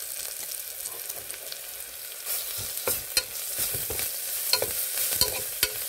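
A spoon stirs turmeric and ginger garlic paste through sizzling oil in a pan while making bottle gourd dal, with a steady frying hiss and scattered scraping clicks, close and fairly quiet, no talking.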